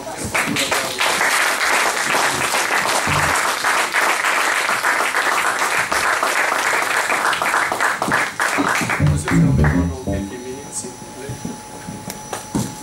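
A church congregation applauding and cheering, with sustained dense clapping and shouts filling most of the stretch before it fades into scattered claps and voices near the end.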